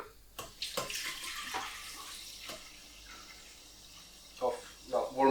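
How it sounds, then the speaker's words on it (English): Warm tap water gushes into a Tefal Supermix blender jug, a soft continuous splashing pour with a few bumps and clunks while a voice talks over it. "Of the warmest water I can get from the tap."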